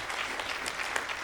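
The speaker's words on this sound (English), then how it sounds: "Can we give a round of applause for our amazing panelists?" Applause from the audience for the panelists at a Black Youth Can mixer closing Emancipation Month: a steady, dense wash of many hands clapping together, evenly loud throughout with no voices on top.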